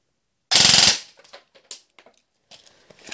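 A FireStorm airsoft gun with a carbon fiber cylinder, 14:1 gears and a 22 TPA motor fires a short full-auto burst, a rapid dense rattle, then a few scattered clicks and mechanical taps afterward.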